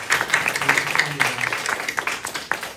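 A church congregation claps in welcome during a Sunday service, a brief burst of dense, close, steady clapping with a voice faintly mixed in.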